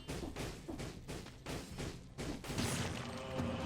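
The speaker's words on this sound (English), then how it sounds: "Can we toss the grenade in here?" Fire grenade detonating in the game Dead Cells, a cluster of several rapid muffled thuds and bursts in quick succession, close and moderately loud, followed by a rumbling blast tail.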